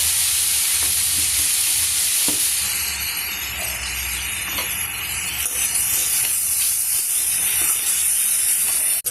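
Grated radish vegetable frying and steaming in a pan hisses and sizzles steadily, with occasional soft stirring scrapes and a clink at the end.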